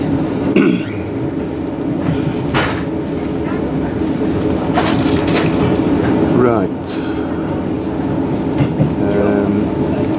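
On board a moving passenger train, a steady rumble with rhythmic rail clatter and occasional sharp squeals continues throughout, while people talk over it.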